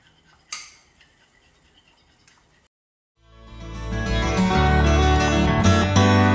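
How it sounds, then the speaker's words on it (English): A utensil clinks against a container while PB2 peanut butter powder is stirred into water for a pancake syrup. The scraping is faint and close, with a few sharp taps early on, then loud music takes over. "I'm just gonna mix it up and make kind of a peanut butter syrup to go on top of my pancakes"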